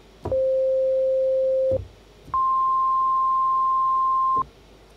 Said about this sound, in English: single operator sine wave sound.